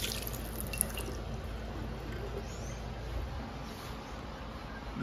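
Water drips steadily in a shower, a soft wet patter over a constant background hiss, with one slightly sharper drop early on and no talking.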